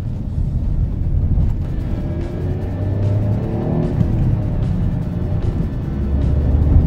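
Ford EcoSport 1.5 Dragon three-cylinder engine, a 2018 model, droning steadily from inside the cabin while driving at low speed, with a low continuous rumble and road noise that swells slightly toward the end.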